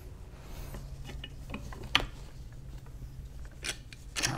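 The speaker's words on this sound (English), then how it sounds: "we got to flip this over and put the washers, the spring clips," Small metal hardware clicks and taps as washers, spring clips and nuts are fitted onto the bolts of a doorway pull-up bar, with scattered light clinks close by over a quiet background.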